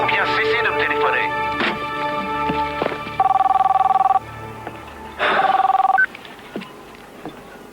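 Old-style telephone bell ringing in two loud, close bursts, with a voice talking just beforehand.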